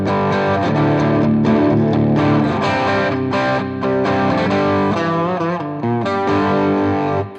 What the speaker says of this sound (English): So we could just interject that in the end of the line.